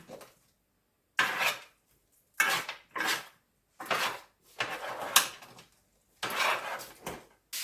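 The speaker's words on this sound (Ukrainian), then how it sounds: "треба ось так це трошечки все перемішати" A spoon scrapes and clatters against a pan as chicken goulash ingredients are stirred together, in several separate bursts of stirring with short pauses between them.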